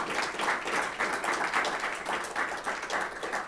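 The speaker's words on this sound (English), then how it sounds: "So a big round of applause for the winners." An audience applauds award winners at an academic conference, a steady round of clapping from many hands that swells and pulses throughout, with no talk over it.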